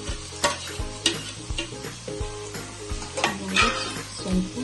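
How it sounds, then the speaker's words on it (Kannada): Onions frying in a pan until golden brown for homemade pasta, with a loud, steady sizzle broken by repeated scrapes and knocks of a spoon stirring against the pan. "ಅದು ಗೋಲ್ಡನ್ ಬ್ರೌನ್ ಬರೋವರೆಗೂ ಹುರ್ಕೋಬೇಕು."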